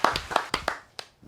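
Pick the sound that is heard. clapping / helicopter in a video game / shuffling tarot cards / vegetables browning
clapping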